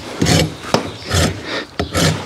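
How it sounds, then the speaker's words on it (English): A farrier's rasp files a Suffolk Punch draft stallion's hoof in three or four rough, scraping strokes at close range, with brief knocks between strokes. "a rasp, which is what I have in my hand, has two sides with teeth on both sides"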